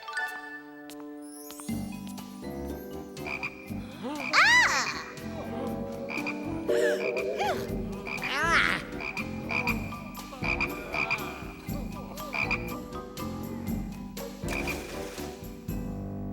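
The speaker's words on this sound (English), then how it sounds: "You, make the frogs go away." Frogs croak repeatedly in a cartoon Bible story scene, a busy chorus of loud, overlapping croaks with bright musical tinkles running throughout.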